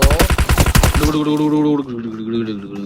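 Rapid automatic gunfire in a mobile shooting game, a loud, tight burst of about a dozen shots for a second, then a sustained musical tone carrying on underneath.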